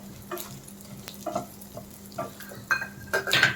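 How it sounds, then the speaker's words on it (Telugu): Chana dal, urad dal and coriander seeds roasting in oil in a pan, with a soft continuous sizzle broken by scattered scrapes and rattles as the spoon turns the lentils and seeds, louder toward the end. "ఇందులో ఒక 2 స్పూన్ల శనగపప్పు, 2 స్పూన్ల మినపప్పు, ఒక 2 స్పూన్ల ధనియాలు వేసి దోరగా వేయించుకోవాలి."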